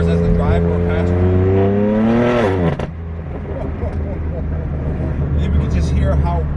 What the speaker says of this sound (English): we can just hear how raspy that inline 6 twin turbo is